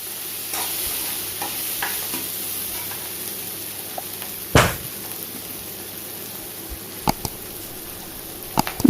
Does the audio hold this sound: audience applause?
no